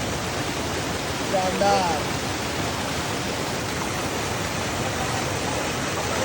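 A mountain waterfall in a forested hill setting rushes as a steady broadband roar, with someone speaking briefly over it near the start.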